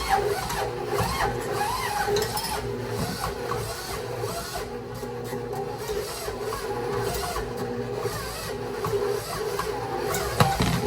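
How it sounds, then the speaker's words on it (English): A steady grinding, rasping mechanical churn from a mixer kneading pizza dough with olive oil and basil, running continuously, with uneven scraping texture that suggests the motor labouring; no voices. "you can hear that the machine is struggling"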